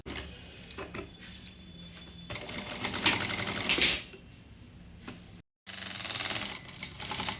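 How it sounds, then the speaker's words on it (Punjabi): A sewing machine stitches double-folded pocket fabric for a palazzo pant, running in a steady close mechanical whir with faster rattling bursts. It pauses briefly, then starts up again. "ਇਸ ਕੱਪੜੇ ਤੇ ਪਹਿਲਾਂ ਅਸੀਂ ਸਲਾਈ ਲਗਾ ਲੈਣੀ ਆ ਇਸ ਸਾਈਡ ਤੋਂ"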